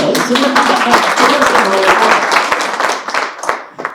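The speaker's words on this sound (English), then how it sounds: "Round of applause." Loud, close audience applause with sharp individual claps, thinning out toward the end as a few voices talk over it.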